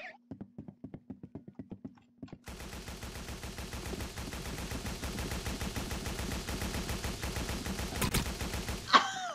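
Gunfire in a video game gun-versus-knife fight: a few single shots, then a long continuous burst of rapid automatic fire, fairly close, with faint voices in the background.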